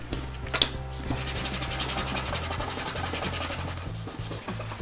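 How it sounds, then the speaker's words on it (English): Gillies wax being buffed off a handmade wooden gift, a steady brisk rubbing with rhythmic strokes close up, running continuously without talk. "the good thing with the Gillies wax is you basically buff it off straight away"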